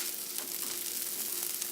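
Chopped onion and garlic sautéing in a pan for a beef and rice timbale, a steady soft sizzle with faint crackles running evenly throughout, fairly quiet and close, with no talk.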